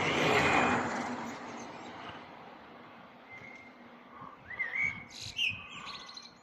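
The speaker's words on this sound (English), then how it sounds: "That bird is on a roof." A bird sings from a rooftop in the early morning, its short rising whistled phrases near and clear over a broad rumble of distant road traffic.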